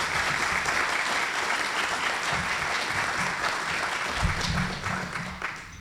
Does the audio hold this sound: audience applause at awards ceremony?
yes